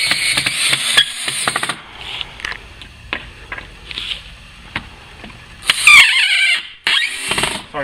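Screws are driven into a wooden support beam of a fireworks stand table with a power tool, giving loud whining bursts, squeals and sharp knocks in an irregular rhythm, close and busy throughout.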